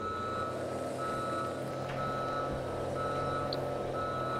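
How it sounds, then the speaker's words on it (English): Steady electronic backup beeps from a reversing truck in Farming Simulator 2017, repeating at an even pace over a continuous engine drone at moderate level. "Man, I wonder how long before these backup beeps are gonna make us want to kill ourselves."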